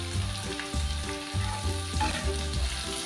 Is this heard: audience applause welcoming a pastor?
no